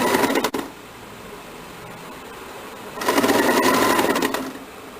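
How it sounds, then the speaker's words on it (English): Domestic sewing machine stitching a sleeve armhole onto a princess-cut blouse, heard as a steady close whirring run that starts after a brief burst, eases to a quieter hum, then surges again before slowing. "continue to stitch for the other side of armhole of the sleeve with the blouse"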